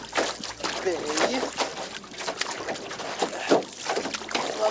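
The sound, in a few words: waves slapping against a kayak bow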